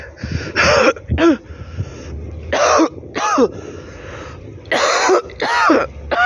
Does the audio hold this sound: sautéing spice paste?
no